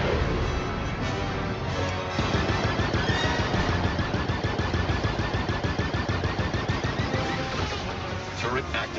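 Turret fire in a Star Wars Outlaws game trailer: a dense, continuous stream of rapid blasts and impacts, loud and close, with a voice speaking over the barrage.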